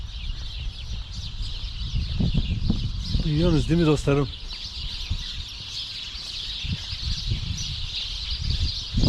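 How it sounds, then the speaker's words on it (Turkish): Outdoor village ambience in Germany with someone talking, a rooster crowing briefly midway, and steady high bird chatter in the background. "Şu kuş seslerini alın."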